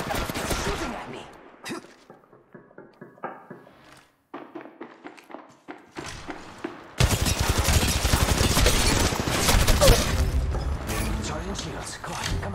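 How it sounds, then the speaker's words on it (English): Gunfire in the Apex Legends battle royale game, with scattered shots and mechanical clicks early on, then a loud, sustained barrage of rapid automatic fire. A player talks over parts of it. "Shooting at me."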